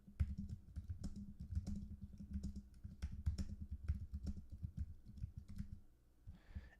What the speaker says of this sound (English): I'll just type this out there.